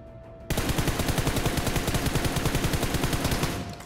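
Rapid automatic gunfire rings out in a battle royale shooter game, a long steady burst of evenly spaced loud shots lasting about three seconds, alone without talk.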